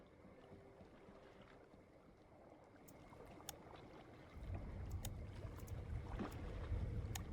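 A boat's engine struggling in Hunt Showdown, a low labored drone that swells louder and rougher partway through over faint wind and water.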